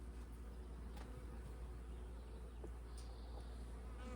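Honey bees buzzing around an opened hive during a queen-rearing check, a steady dense drone close by with low rumble beneath and a few brief higher ticks, no speech.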